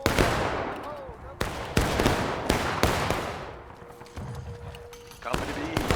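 Musket volleys crack out in the War of Rights Civil War game, several loud sharp shots at irregular intervals with one big volley, while a voice calls orders over the firing.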